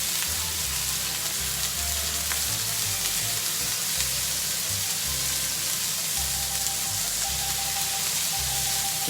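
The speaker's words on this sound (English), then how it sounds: "you're very quickly going to move that around the pan. Okay. So let it fry." Spinach and prawns sizzle steadily in a hot pan for a quick pasta dish, a close, continuous frying hiss with occasional soft stirring, and no voices.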